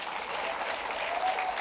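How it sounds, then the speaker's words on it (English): Audience at a mayoral debate gives a steady, even round of applause, many hands clapping continuously in a hall at moderate loudness. "So let's give them a round of applause."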